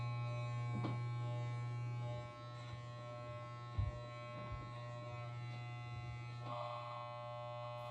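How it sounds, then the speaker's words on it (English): Electric hair clippers trim the top of the head, holding a steady close buzz with a constant hum and small dips and clicks as the blades pass through hair. "Use the clipper over finger technique to trim some length off the top."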